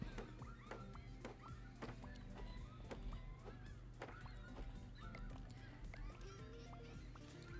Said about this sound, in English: So many seagulls that will not shut up.